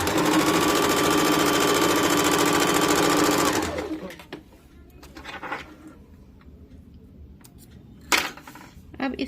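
Sewing machine stitching a folded edge on a katori cut blouse, a rapid steady whirring run for about three and a half seconds that stops, followed by quiet handling rustles.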